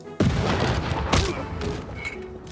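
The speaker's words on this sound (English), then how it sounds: "Here's our fourth cannon shot." A field cannon blasts in the strategy game Civilization VI: one sharp, loud boom followed by rumbling impact noise and a second crack about a second later, with game ambience trailing off.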